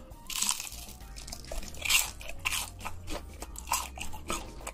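Close, loud crunching as deep-fried Cheetos cheese puffs are bitten and chewed, with repeated bursts of crackly crunches over several seconds.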